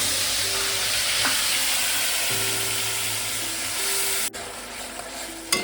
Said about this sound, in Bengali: মিনিট 2-3 ভালো করে আমি বাটা মশলাটাকে কষিয়ে নিলাম।